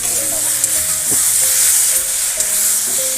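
Spices and vegetables for aloo matar curry sizzle loudly in hot oil in a pan, with steady frying hiss and occasional scraping stirs of a spoon, close up and with no talking.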